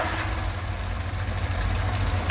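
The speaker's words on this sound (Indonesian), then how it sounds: "Aku goreng okranya ini terlebih dahulu biar tidak berlendir ya" Okra frying in a pan for a dried-shrimp okra stir-fry: a steady, dense sizzle and crackle under a low hum, continuous and moderately loud throughout.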